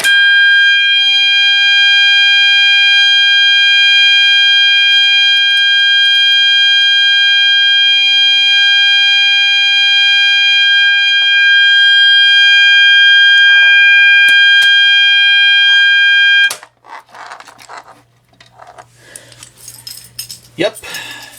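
A Gentex GOS fire alarm horn strobe blares during a test, a loud continuous piercing tone held for about sixteen seconds and then cut off abruptly, followed by quieter clatter and rustling.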